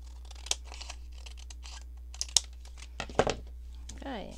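Scissors trim the excess paper off a handmade faux-front envelope, giving a few quick, close snips and crinkles spread over a few seconds against a quiet background with a low steady hum.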